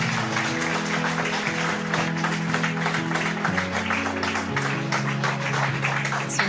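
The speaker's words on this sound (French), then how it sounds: "C'est une très belle entrée sous les applaudissements." Wedding guests applaud as the bride makes her entrance, a steady wash of clapping from a crowd with background music tones sustained beneath it throughout.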